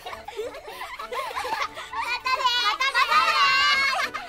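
Children chatter, squeal and giggle at play in a Japanese-dubbed Thomas the Tank Engine episode, with high voices overlapping nearby throughout.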